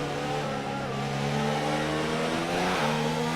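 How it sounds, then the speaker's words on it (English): Formula 1 race car engine in the F1 2019 video game, revving hard with a sustained high buzzing whine that rises in pitch, close and loud, alone without speech. "Racing the crap out of this car."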